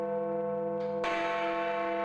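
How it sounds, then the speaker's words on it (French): Big Ben in London strikes noon. A lingering bell hum gives way to a loud, ringing strike of the great bell, which resonates richly and slowly fades. "la plus célèbre cloche du monde résonne avant un long silence"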